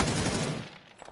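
A brief, dense burst of video-game gunfire, loud at first and then quickly thinning out to a few faint shots.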